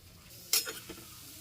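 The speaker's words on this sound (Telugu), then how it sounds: "ఒక చిన్న కుక్కర్ పెట్టుకొని ఒక ఎండుమిర్చి, ఆవాలు, జీలకర్ర, అలాగే కాస్తంత శనగపప్పు, మినపప్పు వేసేసుకొని బాగా వేపుకోవాలండి" Dried chili, mustard seeds, cumin, chana dal and urad dal frying in a small cooker, a faint low sizzle with one brief burst of stirring and a few small scrapes partway through.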